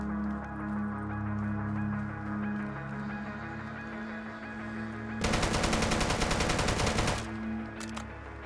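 AK rifle firing in the video game Deadside: a sustained burst of rapid automatic gunfire lasting about two seconds over a steady ambient hum, followed by a couple of brief extra shots.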